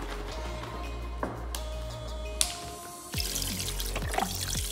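Bone broth from a package is poured into a pot for green chili chicken soup, a steady liquid pour with gurgling glugs that swells louder partway through, close and clear with no talking.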